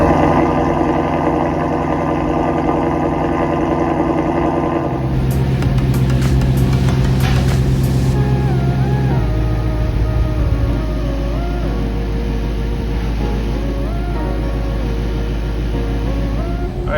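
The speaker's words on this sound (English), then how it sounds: "We're gonna get the Shelby started up, get that oil warmed up" A Ford Shelby GT350 with its 5.2L Voodoo V8 starts up with a burst of cranking and revving, then settles into a steady, loud, rumbling idle close by.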